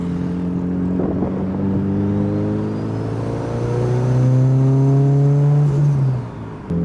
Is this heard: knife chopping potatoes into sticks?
no